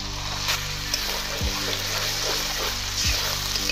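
Turmeric, chili powder, poppy seed paste and drumstick pulp frying in a pan, giving a steady, close sizzle with a couple of soft stirring scrapes; no talking.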